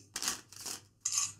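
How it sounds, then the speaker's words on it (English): A deck of playing cards is shuffled by hand in three quick papery riffling bursts, close and crisp, with no talk over it. "Deck of cards. I'm going to give these a shuffle."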